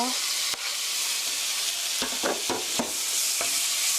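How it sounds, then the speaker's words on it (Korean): Chopped kimchi is stir-fried with golden green onions in a hot pan for kimchi fried rice, giving a steady close sizzle broken by several sharp scraping stir strokes, with no talking. "파가 노릇노릇하게 잘 볶아졌으면 여기에 썰어 놓은 김치 넣어주세요."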